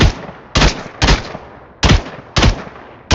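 Pistol fire in a video game: five loud, sharp single shots spaced irregularly, each with a quick decaying tail, with no voices.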